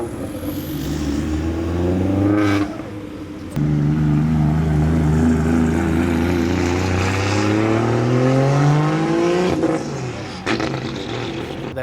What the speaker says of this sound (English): It was a Zenki S14 that was revving.